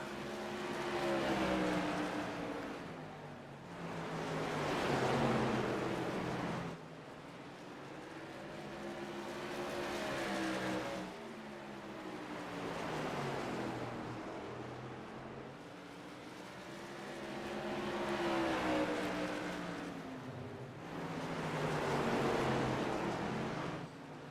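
Tour modified race cars at New Smyrna roar past in repeated waves, engine noise swelling loud and fading as packs of cars sweep by bumper to bumper, a continuous racing drone with no talk.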